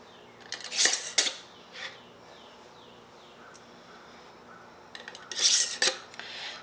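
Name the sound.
screwing lids onto canning jars of homegrown carrots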